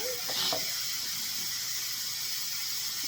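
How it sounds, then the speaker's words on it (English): Steam vents from an Instant Pot pressure cooker after cooking as a continuous, even hiss that holds at a steady level for about three seconds, close and fairly loud. "Just gotta grab this so I can release the vent in the steam."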